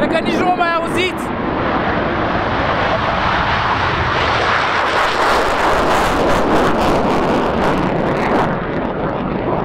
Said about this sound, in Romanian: Și al doilea F-16 chiar acum decolează.